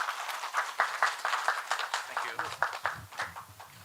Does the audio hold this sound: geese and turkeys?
no